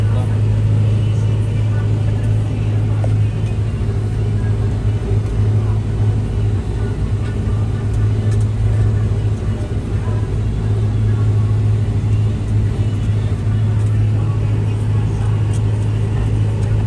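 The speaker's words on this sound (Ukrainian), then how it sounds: "Ну, трактори легко йде, так?" A tractor engine drones steadily at full revs while sowing winter wheat into dry soil, a loud continuous low rumble with a strong hum throughout, and no speech over it.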